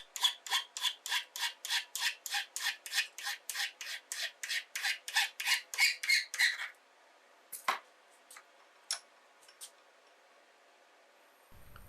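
A metal file rasps rhythmically against the end of a steel blacksmith-forged coal rake, shaping a bevel: about twenty close, even strokes, loud and regular, then a few scattered scrapes and clinks in near quiet.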